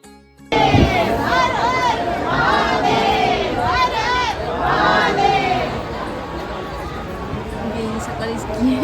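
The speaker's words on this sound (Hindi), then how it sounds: "इतनी ज़्यादा भीड़ थी ओमकारेश्वर मंदिर में" A large, dense crowd of worshippers at Omkareshwar temple fills the space with loud, continuous chanting, shouting and babble of many voices, close and unbroken throughout.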